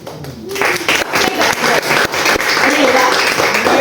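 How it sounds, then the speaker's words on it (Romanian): Audience applause following a literary reading of Romanian-language Israeli women's writing, clapping that swells in after a quiet start and builds to a full, dense patter, with some voices mixed in. "Dacă vă convine să mai aplaudați"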